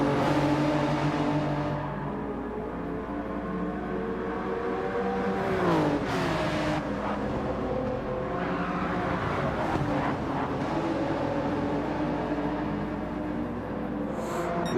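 Toyota Supra race car in Gran Turismo 7 accelerating hard during an online tournament race, a loud, steady engine drone with rising and falling pitch as it shifts, other cars' engines blending in throughout.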